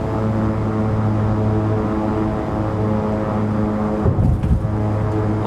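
Simulated King Air 350 turboprop touching down in X-Plane 11, a steady loud propeller drone with layered engine tones running throughout, joined near the end by brief rumbling thumps of the landing.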